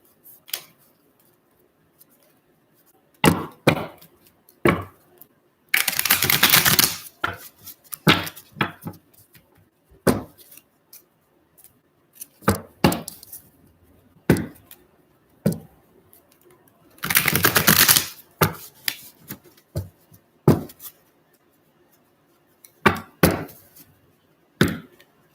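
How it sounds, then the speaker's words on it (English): Cards from a deck being shuffled up close: scattered taps and flicks, then two long riffling bursts several seconds apart, each followed by more handling clicks in a quiet room. "Let's give these a shuffle."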